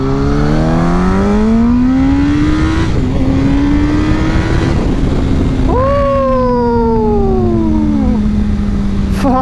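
A Yamaha R1 motorcycle engine revs hard, pitch climbing steadily, dipping, then surging again into a high scream before settling, loud and close throughout with no talking.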